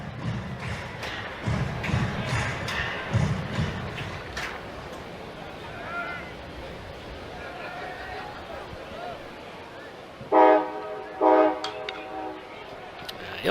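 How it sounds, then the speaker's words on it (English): A train horn near a college baseball game blows in two long blasts from some distance, following stretches of commentary and crowd murmur. "Ill-timed train horn."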